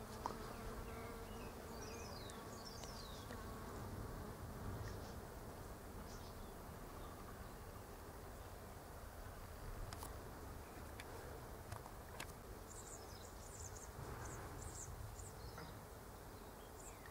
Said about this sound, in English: Listen to the buzz of bees.